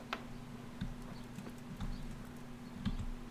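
Horse hooves clip-clopping in an uneven gait in the video game Kingdom Come: Deliverance, a handful of hollow knocks over a steady low hum.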